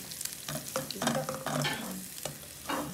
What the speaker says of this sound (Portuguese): o óleo tá queimando